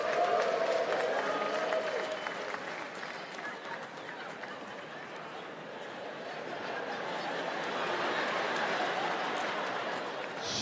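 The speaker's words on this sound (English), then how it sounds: "Should be a few more y'all clapping." An audience at a stand-up comedy show applauds and cheers, a broad, sustained roar of clapping from a large room that dips slightly midway and then swells again.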